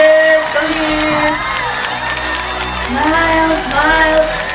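Crowd cheers and applauds for the four tributes at a staged reaping-style event, a steady roar of whoops and shouts under an excited voice that keeps talking throughout.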